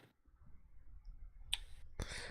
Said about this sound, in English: the buttons on the Xbox controller, yeah, they are a bit louder than the PlayStation 5 controller